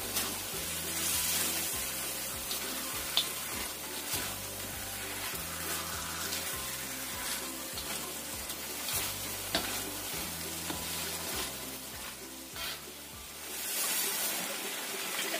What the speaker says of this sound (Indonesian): kita tambahkan ayamnya di sini. Aduk.